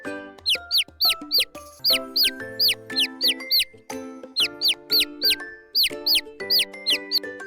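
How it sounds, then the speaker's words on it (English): A baby chick cheeps in quick, high, rising peeps that come in short bursts, loud and close. Plucked musical tones sound underneath the cheeping. "Chick is a baby hen. It says cheep cheep."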